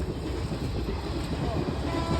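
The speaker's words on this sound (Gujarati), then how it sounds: "આ જો ટ્રેન જીક જીક જીક જીક જીક જીક" A train at Parnera rumbling along the tracks, a dense, steady low roar heard up close with no clear pauses.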